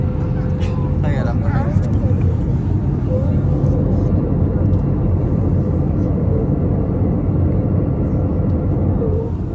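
Steady, loud airplane cabin drone during flight: a broadband engine rumble that never lets up, with voices talking faintly underneath.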